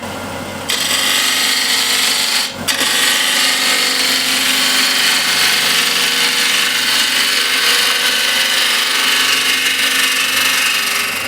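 A wood lathe runs in reverse with a loud, steady motor whine and broadband roar, starting up suddenly near the beginning with a brief dip partway through, and no one talking.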